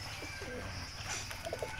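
Domestic pigeons coo at a backyard pigeon coop, a few soft, low calls near the end that come through faint, steady outdoor background noise.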